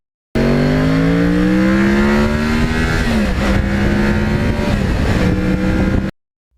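Loud motorcycle engine accelerating hard, either a 2009 Yamaha R1 crossplane or a 1991 Yamaha FZR, with a steadily rising rev pitch that drops at a gear change about halfway and then climbs again, with no talk.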